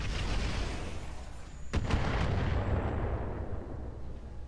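Heavy artillery barrage and mech weapons fire in the BattleTech mod game Roguetech, a continuous roaring rumble of blasts with a sharp nearby impact crack partway through, loud and dense throughout.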